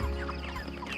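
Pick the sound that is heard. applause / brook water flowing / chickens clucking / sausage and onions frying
chickens clucking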